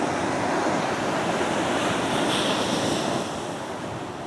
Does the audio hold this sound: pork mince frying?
no